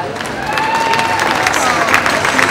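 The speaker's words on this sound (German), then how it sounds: "bitte ich einen großen Applaus für Johannes Stötter" Audience applause for bodypainter Johannes Stötter at an international bodypainting contest: dense, steady clapping from a large crowd that fills the space, with faint cheering and voices mixed in underneath.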